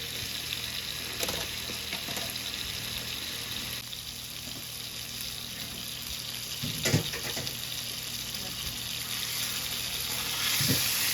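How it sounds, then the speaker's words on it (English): A quesadilla sears in a hot pan with a continuous, moderate sizzle and hiss, broken by a few soft scrapes and bumps, with no talking. "Just want to give it a good quick sear"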